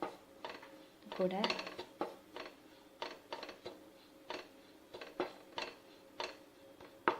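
Gulab jamun mix is stirred in a metal pan, making a series of irregular scraping clinks and knocks of a spoon against the pan, close and fairly quiet, with a brief spoken word in between.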